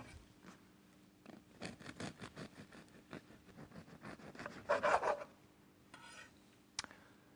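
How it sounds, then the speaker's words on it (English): A knife saws back and forth through bread in a run of quick rhythmic rasping strokes, soft and close, followed by a few lighter scrapes and a small tap. "First, slice the bread."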